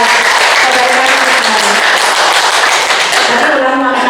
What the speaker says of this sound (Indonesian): Kita kasih aplaus semua ya.